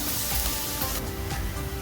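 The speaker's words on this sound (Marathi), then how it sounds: "फोडणी छान 2 मिनिटं परतवून घेऊया" Crushed garlic, ginger and green chili frying in hot oil in a pan for a palak matar tempering, a loud continuous sizzle and spatter close by, with no talk.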